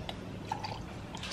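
Tito's vodka is poured from a small shot measure into a glass, giving a few soft drips and a brief liquid trickle, quiet and close against a hushed room.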